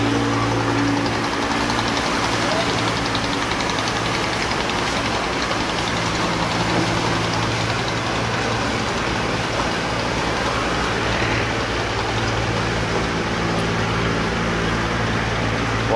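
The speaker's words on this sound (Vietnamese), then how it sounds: "chiếc ghe lú đang chạy vô" A Vietnamese fishing boat (ghe lú) motors in toward the Bến Đá wharf at Vũng Tàu, its engine a steady, continuous drone mixed with broad outdoor wash and no talk.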